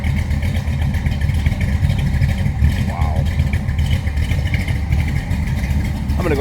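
A 1966 Ford Galaxie 500 hardtop with a 7-litre 428 V8 rumbles steadily at close range, a deep, loud engine drone with faint chirps over it and speech likely mixed in.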